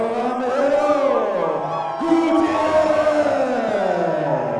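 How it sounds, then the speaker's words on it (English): A fight-night crowd in Knoxville cheers, whoops and shouts for Ramiro Gutierrez's walkout, a dense loud roar of many voices with rising yells, alone. "both these guys sound like they have a lot of supporters in the crowd here tonight"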